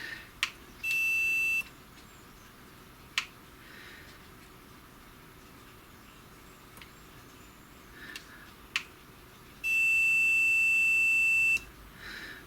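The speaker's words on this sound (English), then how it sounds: "connect my multimeter set to continuity, so we've got a slight tone on it." Multimeter set to continuity sounding a steady electronic beep in two short bursts, the second one longer, with faint clicks of probes and handling between and no talk.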